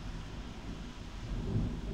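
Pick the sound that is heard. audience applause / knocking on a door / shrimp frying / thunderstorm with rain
thunderstorm with rain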